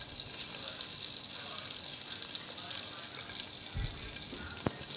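Bread and sausage rolls dipped in egg frying in a pan over medium heat, a steady hiss of sizzling oil throughout with a brief clatter near the end.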